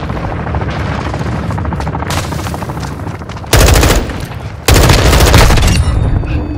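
Sustained gunfire in the video game Call of Duty: Modern Warfare II, loud continuous machine-gun bursts over a helicopter-like drone, with two heavy, intense volleys in the second half.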